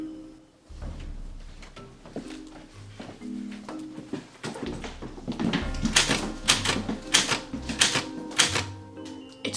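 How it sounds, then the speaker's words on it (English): An old typewriter clacks away by itself, a loud irregular run of key strikes with bell-like dings and carriage clunks, building to denser bursts of typing toward the end, with no voices. "Shouldn't we go see what it's typing?"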